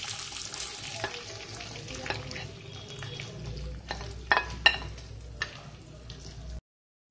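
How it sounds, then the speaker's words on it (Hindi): Boiled potatoes sizzle and fry with ground spices in a pan over medium heat, a steady close sizzle with occasional stirring clinks, for a Rajasthani stuffed masala baati filling. "आलू को मीडियम आंच पर थोड़ा फ्राई करते हैं"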